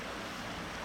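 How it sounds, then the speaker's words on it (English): Steady broadband rush of water flowing through a desert canyon on the Boulder Canyon Trail in the Superstition Wilderness, Arizona, continuous and fairly close with a faint windy wash and no voices. "A lot of water flowing."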